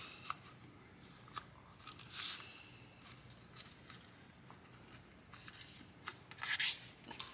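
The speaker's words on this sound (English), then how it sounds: "So you're just going to fold that in half." Basic white cardstock, 8 1/4 by 5 1/4 inches, folded in half for a pop-up card, heard as soft close rubbing and scraping with a few louder papery swishes and creases, no voice.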